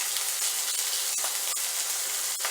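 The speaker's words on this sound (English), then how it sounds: "you got some sizzle going on there" Chicken pieces frying skin side down in a skillet for chicken adobo give off a steady broadband sizzle and hiss, with a few sharper spits and pops breaking through the fairly quiet, close frying noise.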